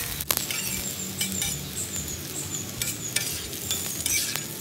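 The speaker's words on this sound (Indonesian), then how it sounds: "Kita panggang daging yang tadi itu, kita potong-potong, terus kita panggang terlebih dahulu." Cut pieces of beef sizzle and crackle steadily on a hot grill for kebab, with a dense, continuous frying hiss broken by occasional sharp clinks and pops, close up and without speech.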